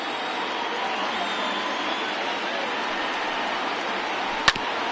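Baseball crowd of over 39,000 at a Padres versus Cubs game in a 2020 MLB video game: a steady, distant roar of stadium cheering holding throughout, with one sharp knock near the end.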